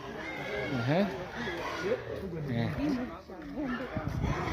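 Pigs squeal and grunt in a noisy crowd, with shrill rising-and-falling cries overlapping almost continuously at moderate distance while a person talks over them.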